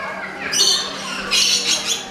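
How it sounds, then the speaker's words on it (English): A large flock of birds squawks and chirps close by in a noisy, continuous chorus, with busy high calls swelling in two waves over steady background noise. "you got attacked by like a million birds"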